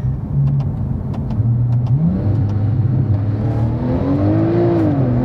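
A 2011 Porsche 911 Turbo S launches hard with launch control, its engine note rising steadily and sweeping upward through the gears, loud and close from inside the cabin with no talk over it.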